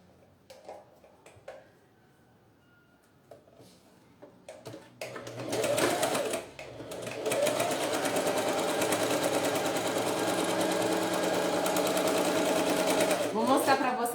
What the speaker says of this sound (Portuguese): E aí, eu vou costurar com um pezinho de máquina.